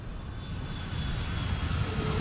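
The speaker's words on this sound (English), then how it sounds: "Just Emirates 380 is just going up over there." An Emirates Airbus A380 climbs away after takeoff from Heathrow. Its jet engines give a sustained, broad roar that builds slightly and stays steady and fairly distant, with no voices.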